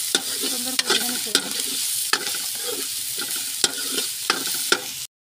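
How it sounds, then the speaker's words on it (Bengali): Ingredients for spicy noodles fry in a pan with a continuous loud sizzle, punctuated by regular scraping strokes of a spatula roughly every second, close up with no talking. "সুন্দর করে, ভেজে নিচ্ছি।"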